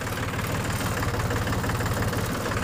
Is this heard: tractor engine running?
yes